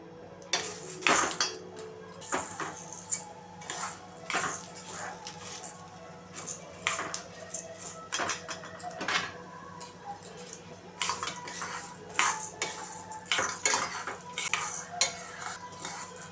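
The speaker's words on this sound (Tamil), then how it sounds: "உளுந்தம்பருப்பை கரு கருக விட்டுறாமல் நம்ம செவக்கிற மாதிரி வறுக்கணும்" Urad dal dry-roasting in a pan with a little oil, stirred steadily by a metal spatula that scrapes and clinks against the pan in a quick, irregular rhythm, close and fairly clear over a low background hum.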